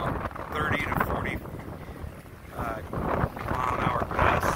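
Strong hurricane winds of about 20 to 25 mph, gusting to 30 to 40, batter a dock during Hurricane Sally, roaring in loud buffeting surges against the microphone, with someone talking over it.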